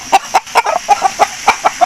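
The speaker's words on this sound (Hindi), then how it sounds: "दुम है मुर्गे की, लंबे दुम है ये मुर्गा है।" An Aseel rooster clucks in a quick series of about ten short, sharp, evenly spaced calls, close and clear with no talk over them.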